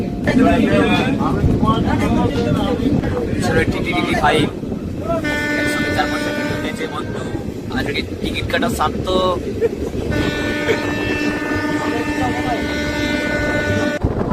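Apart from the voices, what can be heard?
train moving at high speed with wind at door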